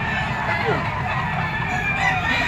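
A rooster crows loudly and close by at a gamefowl pet market, one sustained crow over market noise with faint voices in the background.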